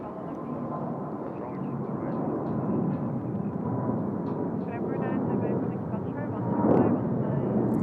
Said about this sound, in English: Lovely sound of the Pratt & Whitney engines there.